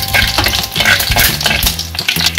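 Fenugreek seeds fry in hot oil for a Kottayam-style fish curry, giving a dense, steady sizzle with stirring scrapes and light utensil clinks throughout, close and fairly loud.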